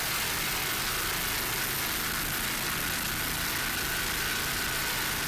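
Racing powerboats with outboard engines in the Cat Outboard class at the 2006 Edison Oil race roar in a steady, dense, unbroken drone, loud and continuous with no voices.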